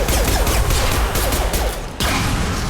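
A dense burst of explosive combat noise in the Mass Effect game, with crackling blasts and whooshes crowding together before cutting briefly and resuming loud.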